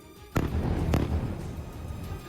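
Bombs dropped by fighter jets exploding on impact, a sudden loud blast followed by a second crack and a long rumbling roar that slowly fades.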